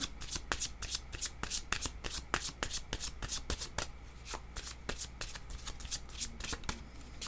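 Tarot or oracle cards shuffled by hand during a card reading, a quick steady run of soft riffling slaps up close and fairly quiet, continuing without pause.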